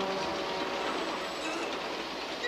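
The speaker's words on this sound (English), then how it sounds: "The train!" A train rolls past nearby with a steady loud rumble and rhythmic rattling of wheels and wagons, heard alone without voices.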